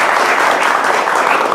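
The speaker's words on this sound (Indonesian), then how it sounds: "Kami hadirin tepuk tangannya buat Ustadz Dery Sulaiman." A studio audience at an Indonesian TV talk show claps for Ustadz Dery Sulaiman, a dense and loud burst of applause lasting a moment.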